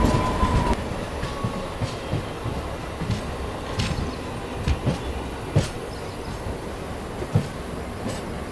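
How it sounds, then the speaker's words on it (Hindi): A Humsafar Express train, 12595 Gorakhpur to Anand Vihar, runs through Ghaziabad without stopping, heard from inside the coach: a steady rolling rumble with rhythmic clickety-clack wheel thumps over rail joints, fairly quiet, no talk. "गाजियाबाद को भी अपनी ट्रेन ने बिना रुके पार कर लिया।"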